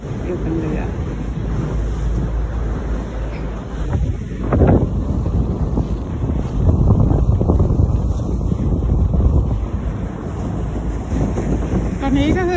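Wind buffets the microphone on a boat ride through Stockholm in summer, a constant rough rumble with a faint watery wash beneath it and gusts that swell midway.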